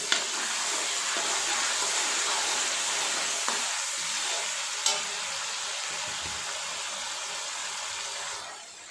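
Steady broadband sizzling of ginger, garlic and chili paste frying in a hot pan for dal, with a couple of light utensil taps, fairly loud and continuous with no talking.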